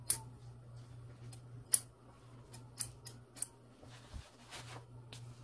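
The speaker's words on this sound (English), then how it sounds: "let me cut these threads out because I don't want to get them in the zipper" Several crisp snips of scissors cutting loose threads on a leatherette box cushion, spaced irregularly over a steady low hum, with soft handling noises in between.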